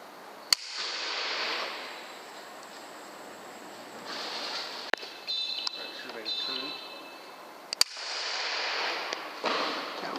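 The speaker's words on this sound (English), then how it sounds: "As usual, we'll start off with Bob, and then we'll switch over to my rifle, which is now fitted with the new Hikmicro Alpex 4K Lite night vision scope." Air rifle fitted with a Hikmicro Alpex 4K Lite night vision scope shooting at pigeons at a recycling centre: three sharp, isolated cracks spaced several seconds apart over a steady broadband hiss, with faint low voice sounds in between.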